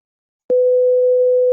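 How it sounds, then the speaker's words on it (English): A 501 Hz sine test tone starts abruptly after half a second of silence and holds steady and loud, alone, until the end. "And 501 sounds like this."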